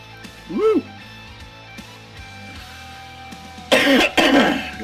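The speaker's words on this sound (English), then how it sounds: "Got a cough out of me." A man coughs after sipping a fiery spicy tincture, one short throaty cough early on, then two heavier harsh coughs close together near the end, loud and close in a quiet room.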